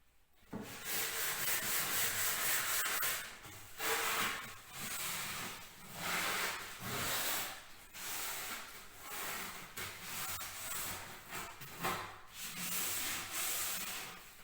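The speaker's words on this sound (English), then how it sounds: "following the grain, we're not rubbing too hard, this is just to give it a key" Hand sanding a varnished wooden door lightly along the grain to key the surface before priming: steady, close scratchy rubbing strokes in a repeating back-and-forth rhythm, with no talk.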